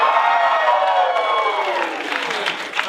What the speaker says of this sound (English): I want to hear you give a big practice cheer